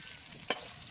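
Brinjal fries in oil at an outdoor picnic, giving a steady, faint sizzle with one brief stir or clatter midway.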